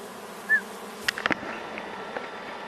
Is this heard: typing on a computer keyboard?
no